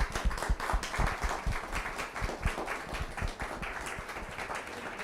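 An audience at a panel event applauds, a burst of many hands clapping that starts loud and gradually thins out over several seconds.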